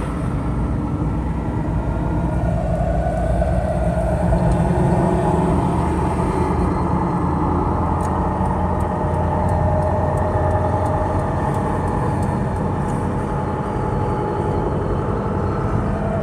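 A lifted 1996 Toyota Land Cruiser cruises on a highway with a steady, loud drone of engine, tyre and wind noise from inside the cabin, unbroken throughout and with no talk.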